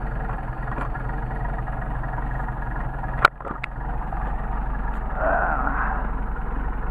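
A Mercedes 190SL engine on Solex carburetors idles steadily at about 500 rpm in 29°F cold, with a low, even rumble and one sharp click partway through.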